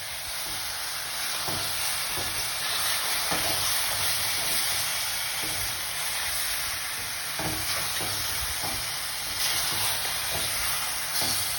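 Jamaican curry chicken bubbles and sizzles in a pot while being stirred. A steady, hissing simmer runs throughout, with occasional soft scraping taps from the stirring.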